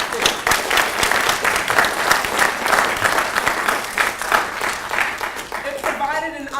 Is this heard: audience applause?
yes